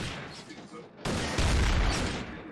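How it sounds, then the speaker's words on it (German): Gunfire in Garry's Mod Trouble in Terrorist Town aimed at a trap, a sudden loud burst of shots that swells into a sustained, booming barrage after a quieter stretch, with no talk over it. "Ich schieß mal drauf."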